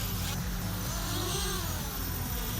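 An FPV racing drone at an indoor racing event, its motors droning steadily at high pitch, with throttle surges and dips over a constant low rumble.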